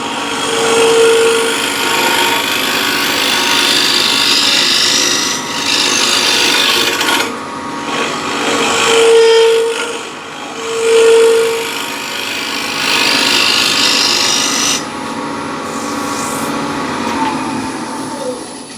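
A wood lathe spins a bowl blank at 1547 RPM while a gouge cuts, giving a loud, continuous scraping rasp with swells and dips as the tool moves across the surface.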